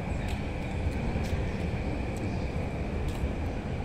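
A low, continuous rumble of a train passing in the distance, heard from a quiet park in Arakawa, Tokyo, steady and fairly faint, with no voices.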